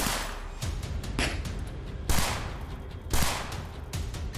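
Gunfire rings out on a street in Bhajanpura, Delhi, with several rounds fired in quick succession. Sharp cracks repeat irregularly, and two louder bursts stand out above a noisy background.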